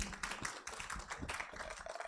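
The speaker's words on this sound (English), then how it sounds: "A round of applause for him." Applause from a conference audience at a sustainable building event, steady dense clapping heard from a distance at low level, with no speech over it.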